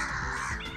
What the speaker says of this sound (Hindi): कौआ का आवाज़ आता है जी।